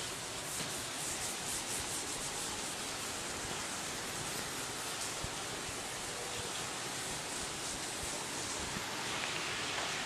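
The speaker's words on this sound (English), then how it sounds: "So now I'm going to rub my board" Steady, continuous rubbing of a board being wiped clean, an even, close, hissy scrape with no talking.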